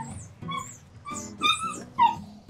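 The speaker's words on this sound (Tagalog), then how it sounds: "Yung aso, maingay yung aso?" A dog yips and whimpers in short, high, whining bursts, several separate cries spaced irregularly across the stretch, close and fairly loud, with no talk over them.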